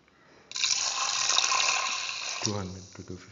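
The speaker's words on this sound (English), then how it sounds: "200 to 250 ml of water" About 200 to 250 ml of water gushes suddenly and steadily into a pan of kidney beans and potatoes, loud and close, for about two seconds before a voice starts talking over its tail.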